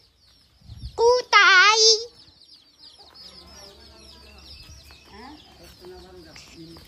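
A chicken squawks loudly once while being chased outdoors, followed by softer clucking and a voice speaking nearby.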